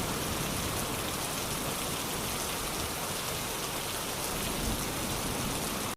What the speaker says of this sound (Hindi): अचानक आसमान में बादल गरजने लगे और बारिश शुरू हो गई, जिस कारण आग बुझ गई